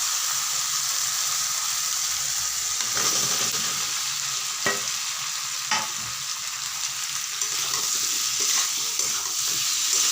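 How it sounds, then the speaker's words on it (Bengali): Potatoes go into a hot pan with fried rui fish spices and sizzle steadily, with a few sharp stirring scrapes over a constant hiss and no talking. "আলুগুলোকে এখন দিয়ে দিচ্ছি"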